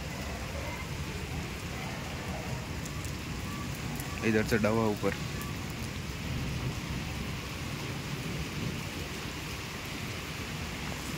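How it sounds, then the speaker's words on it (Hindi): Heavy rain pours steadily in Jaipur, a constant wash of noise, while someone speaks briefly partway through. "वापस बारिश तेज हो गई है"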